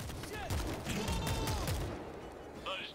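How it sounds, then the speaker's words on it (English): A heavy shotgun firing in World War Z: repeated loud blasts in quick succession amid zombie-horde chaos and other gunfire. "This heavy shotgun is probably the best when you're trying to maneuver around small areas"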